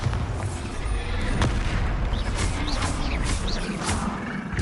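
The Bombarda blasting spell from Hogwarts Legacy goes off in a deep, rumbling explosion with booming low-end surges and crackling debris, dense and continuous through the short stretch of game combat.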